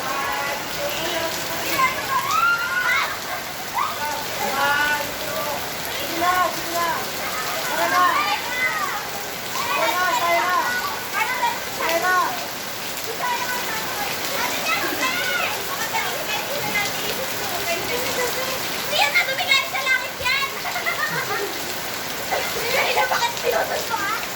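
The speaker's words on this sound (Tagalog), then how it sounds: "napakalakas ng ulan talaga" Heavy rain pours in a steady, loud wash throughout, with people talking over it and occasional voices rising above the downpour.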